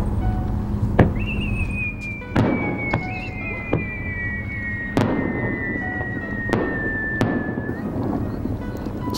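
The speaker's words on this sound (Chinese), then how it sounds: "长崎烟火大会从春天到秋天之间举行，随着季节变化观赏烟火是难得的享受。" A fireworks display over Lake Toya at night: long whistling streaks glide through the air while a series of booming bursts land every second or so, echoing across the open water.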